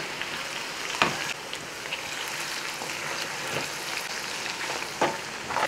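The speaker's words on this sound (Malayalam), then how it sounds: "രണ്ടിടിയിൽ നമുക്കത് വറുത്തെടുക്കാം." Pieces of ginger fry in a pan for an inji curry, giving a steady close sizzle with scattered sharper crackles and pops and no talking.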